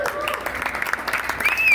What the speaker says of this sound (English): Everybody applaud.